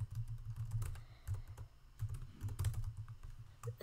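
Keys on a computer keyboard clatter in a steady, quiet run of quick clicks, close and alone with no voices.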